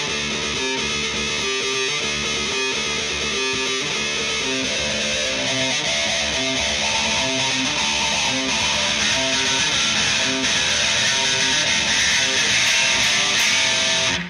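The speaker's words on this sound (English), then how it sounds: "start with the wah-wah pedal completely open, and you're going to kind of gradually press down as the buildup goes on" An electric guitar buildup plays with a wah-wah pedal that starts fully open and is gradually pressed down, distorted and dense in a steady loud rhythm, with no talk.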